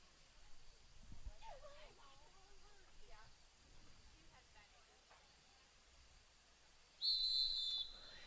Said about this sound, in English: We'll wait for the referee's whistle to resume play.